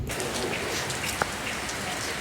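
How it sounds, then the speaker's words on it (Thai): Rain pours steadily in front of a house during a storm, a constant dense hiss of drops on surfaces with one brief louder tap partway through. "บรรยากาศฝนตก"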